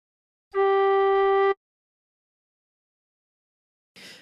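A single sustained tin whistle note blown gently for about a second, clear and pure, from a La Cucaracha phrase, followed by silence and a faint breathy noise at the end.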